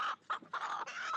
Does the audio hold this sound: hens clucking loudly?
yes